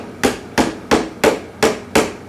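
A child strikes a toy nail on a wooden toy tool bench with a toy hammer: seven sharp, evenly spaced knocks at a steady rhythm, close and loud, with no talking.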